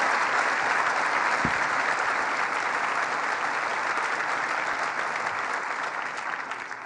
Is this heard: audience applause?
yes